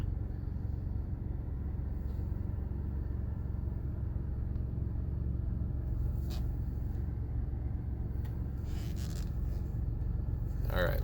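A 2014 Ford F-150 Tremor pickup with an EcoBoost engine, under repair for a misfire, idles steadily while warming up, a constant low rumble close by with a few brief clicks and rustles.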